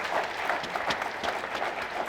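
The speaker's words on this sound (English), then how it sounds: "Can we have a big round of applause" A crowd at a Road Transport Hall of Fame induction ceremony applauding steadily, a dense wash of many hands clapping at moderate volume with no talking.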